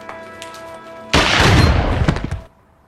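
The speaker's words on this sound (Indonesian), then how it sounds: "Ternyata Plank masih hidup dan menembak Rory." A gunshot from the crime film Lock, Stock and Two Smoking Barrels, one sudden loud booming blast that cuts through quiet music and then rumbles and fades over about a second before stopping abruptly.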